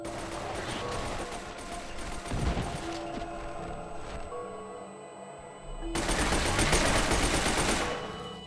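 Rapid automatic gunfire from the console version of the video game F.E.A.R., loud dense bursts that fill the clip, ease off midway, then surge again in a heavy fusillade near the end.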